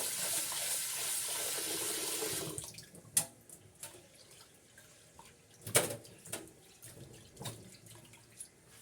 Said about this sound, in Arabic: كوبايتين أرز يساوي 400 جرام، راح نغسلها 2 مرات